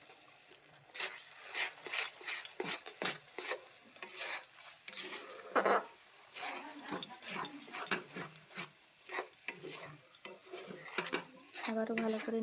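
Semolina cooked with ghee is stirred in a pan: faint, repeated scraping and rasping of a utensil against the metal, with irregular clinks, and no voices.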